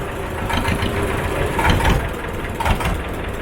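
A boat's motor runs loud and steady as it moves into a creek off the Ganga River, a rough continuous engine drone with slight swells and no voices.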